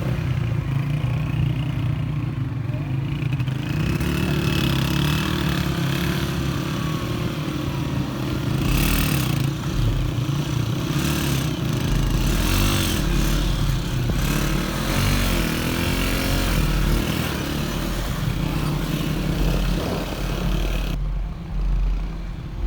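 Motorbikes ridden into desert terrain on a Lahore to Skardu biking trip, with a steady, loud engine drone and rattling clatter running continuously throughout.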